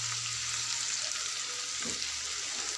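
Ampalaya sizzles steadily in a hot pan as oyster sauce goes in, a close, even frying hiss with a soft stir or splash near the end.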